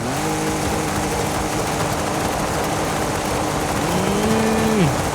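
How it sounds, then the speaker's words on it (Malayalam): Ford Raptor truck drifting in Forza Horizon 6, its engine droning steadily with a rising rev swell near the end, loud and continuous. "റാപ്റ്റർ ഡ്രിഫ്റ്റ് ചെയ്യാൻ കൊള്ളാമോ നോക്കട്ടെ"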